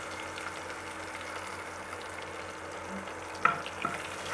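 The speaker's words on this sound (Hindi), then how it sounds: "अब हम लोग इसमें प्याज डाल देंगे थोड़ा सा" Onions frying in a pan for egg biryani, a steady low sizzle throughout with a couple of brief clinks of a spoon near the end.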